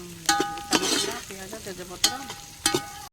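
Onions sizzle in oil in a home kitchen pan, with several sharp scraping stirs and clinks of a utensil standing out over a moderate frying hiss.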